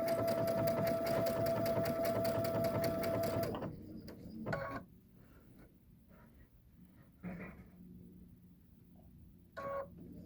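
A sewing machine stitches an appliqué owl pin cushion in a fast rhythmic whir for a few seconds, then stops, followed by a few short, quiet stitch bursts.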